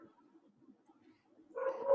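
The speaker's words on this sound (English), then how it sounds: "if you hear my dog in the background," A dog barks faintly in the background of a quiet indoor space, one short burst of barking near the end after a low murmur.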